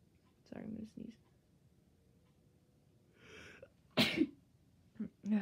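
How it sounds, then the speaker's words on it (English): One loud sneeze bursts out close to the microphone from a person playing Minecraft indoors, after quiet murmurs and breaths, followed by short breathy sounds. "I'm gonna sneeze"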